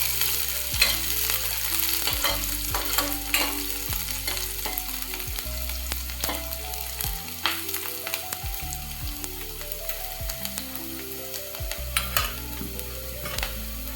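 Chopped green chillies and onion stir-fry in a pan for veg manchurian, a continuous sizzle with frequent clattering stirs and scrapes of the spatula throughout.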